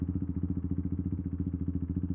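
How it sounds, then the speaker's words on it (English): A motorcycle exhaust idles nearby with a low, throbbing rumble of steady, rapid pulses, no voices. "Now this person behind me's just got to listen to my exhaust."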